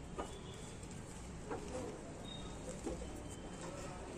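Soft wild pigeon coos repeat a few times at a distance over a quiet outdoor background hum.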